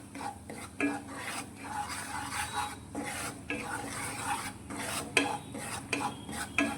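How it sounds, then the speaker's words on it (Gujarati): Semolina being stirred in ghee inside a kadai over a slow flame, giving a steady scraping, rasping churn with occasional metallic clinks of the spoon against the pan, close and continuous. "કઢાઈની અંદર લઈ લઈશું અને ઘીની અંદર આ રીતે સારી રીતે મિક્સ કરી લઈશું"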